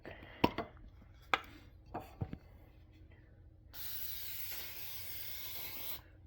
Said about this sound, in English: So we're gonna add some cooking spray.